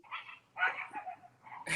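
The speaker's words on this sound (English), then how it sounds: "yeah, they're dogs" Dogs bark outdoors in short, sharp bursts, three clustered barks spaced over a couple of seconds, heard at a moderate distance and fairly faint.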